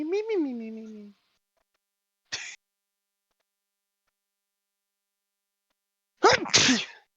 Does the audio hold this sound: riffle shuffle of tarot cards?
no